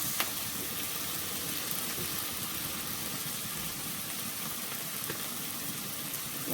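Meat frying in a pan alongside a pot of yams, a steady, even sizzle with soft crackle running the whole time, moderately faint and with no talking over it.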